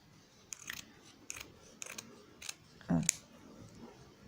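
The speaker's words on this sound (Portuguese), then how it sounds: "na parte de recortar, a tesoura sempre bem afiadinha, eu vou separar aqui" Sharp felt-cutting scissors being handled, several short crisp snips and clicks spaced apart, close and fairly quiet, with a louder clack near the end.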